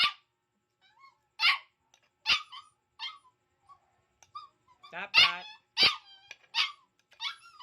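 A dog barks repeatedly at close range, the barks coming in irregular clusters with a few whimpering yips in between.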